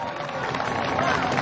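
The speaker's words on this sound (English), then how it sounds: "Let's give them a little round of applause for doing the right thing." A crowd at a No Kings protest rally in Marietta, Ohio, applauds in a dense, steady wash of clapping and murmur that holds at an even level throughout.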